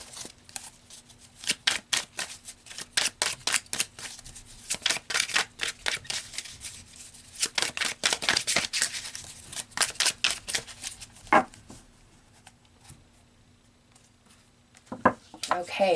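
Tarot cards riffled, slid and drawn from a deck on a quiet table, a series of crisp close snapping and shuffling bursts in several runs, then a pause and a few final flicks.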